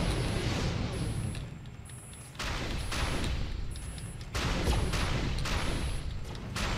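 Gunfire in the Defiance video game, a Valane Liro arena fight against scrappers with a Castithan charge pack: dense bursts of shots and blasts in repeated waves, loud and close, with bright high-pitched tones and rumbling impacts.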